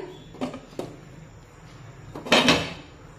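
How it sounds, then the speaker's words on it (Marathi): A lid set onto a hot kadai holding a plate of wheat-flour nankhatai, heard as a couple of light knocks followed by a louder metallic clatter and settling scrape, close and alone. "वरून झाकण लावूया"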